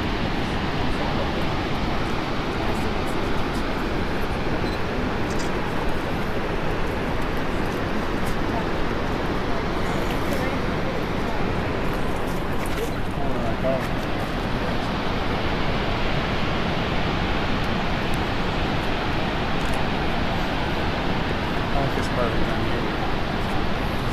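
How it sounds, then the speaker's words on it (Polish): A waterfall in a canyon at Yellowstone roars as a constant broadband rush of falling water, steady and loud without pause, blended with some wind noise on the microphone. "A tutaj z boku jest wodospad."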